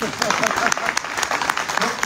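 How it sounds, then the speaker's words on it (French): Audience applause at a French-language talk event, a dense, steady patter of many hands clapping throughout, with a voice speaking over it. "Applaudissez."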